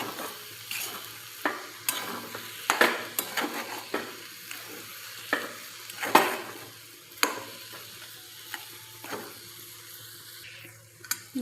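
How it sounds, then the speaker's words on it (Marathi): Semolina sheera roasts with sugar in a pan while a spoon stirs it, making repeated scraping strokes at an uneven rhythm over a quiet background sizzle, close and without talk. "इथे आपण छान असं परतून घेतोय."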